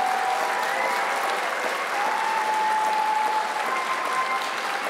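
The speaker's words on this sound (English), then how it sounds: "Let's have a round of applause for the education assistant graduates." A graduation ceremony audience at Stenberg College gives sustained, even applause for the education assistant graduates, a continuous wash of many hands clapping at a steady volume throughout.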